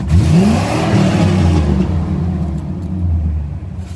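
A loud car engine revs hard, its pitch sweeping up and settling into a steady, throaty roar that rises and falls slightly, close by with no talking.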